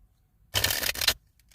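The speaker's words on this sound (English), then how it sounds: "Let me just shuffle this deck real quick again." A tarot card deck being shuffled by hand, one quick crisp riffle of flapping, rattling cards close by, then a short pause and faint light ticks in an otherwise quiet room.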